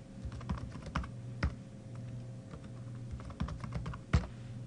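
A name and password being typed on a computer keyboard, with soft, quick, irregular key clicks and a few sharper taps, heard close and quiet, with no one talking.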